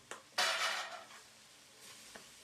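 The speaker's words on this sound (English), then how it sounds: "Give that a good mix." Ginger, garlic and peppers being stirred in a pot while making pilau with peas and carrots, a short burst of scraping and sizzling that fades to a quieter simmer, with a light clink near the end.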